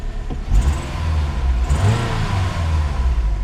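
A Pontiac Grand Am engine runs after a VATS bypass, a loud, close mid-pitched drone that rises and falls with revving, with no voices.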